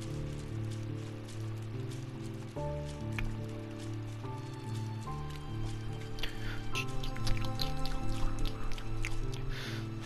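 Water in the fox adventure game Spirit of the North comes through as scattered dripping and splashing ticks beneath a prominent, sustained musical score.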